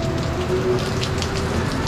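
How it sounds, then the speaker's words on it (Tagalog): Heavy rain pours down steadily during a flood, a dense hiss of drops drumming on surfaces throughout, with a faint low hum underneath. "grabe ulan na naman tataas pa siguro ang tubig"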